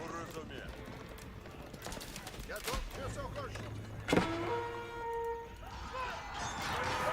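Horse hooves clop in a Total War-style strategy game featuring horse archers, a scattered galloping patter amid battle effects, with someone talking over most of it.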